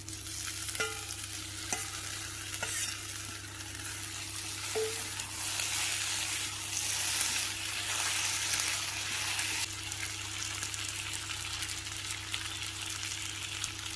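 Boiled taro stolons hit a hot pan and sizzle steadily, a continuous frying hiss with a few stirring scrapes early on, close and alone with no voices.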